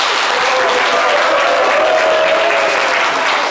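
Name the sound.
applause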